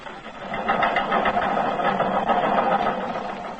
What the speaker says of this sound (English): batteries of teletype machines are hammering out news dispatches flashing in from the war fronts